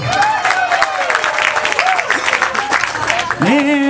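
Audience applause fills a campus hall during a student charity stage show at the university's social and political sciences faculty, steady and close, with cheering voices and shouts mixed over the clapping throughout.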